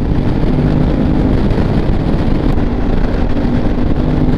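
A 2022 Aprilia Tuareg 660 motorcycle ridden over bumpy, potholed ground, its engine and rushing wind forming a steady, close, unbroken roar throughout.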